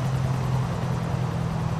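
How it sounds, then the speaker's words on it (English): A helicopter flies over a bridge in the Grand Theft Auto 4 video game, a loud steady low rotor drone with a constant hum, heard alone without voices. "Whenever I go over this bridge, there's always a helicopter."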